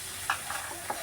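Kashmiri chili powder stirred into an oily frying pan while making nasi lemak: a steady close sizzle with a few soft scraping stir strokes, no talking.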